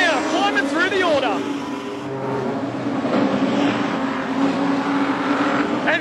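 Production sedan race cars roar around Carina Speedway during the Rum City Rumble final, engines droning loud and continuous with a pass sweeping by early, under steady excited race commentary.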